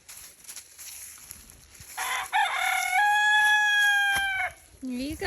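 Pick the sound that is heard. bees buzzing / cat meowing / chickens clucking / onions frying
chickens clucking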